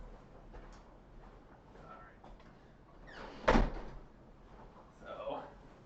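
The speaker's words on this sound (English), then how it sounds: "I'm going to close the door." A door being closed indoors by a teacher during a live-streamed class, a single sharp broadband thud standing out briefly against quiet room noise, with background voices in the room.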